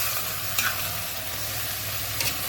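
Sautéing and stirring in a pan while cooking papaitan, a steady hiss of frying with a couple of brief scraping stirs, close and continuous, with no voices.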